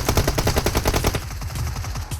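Rapid, continuous bursts of automatic gunfire in PUBG Mobile, loud and close, rattling without pause throughout.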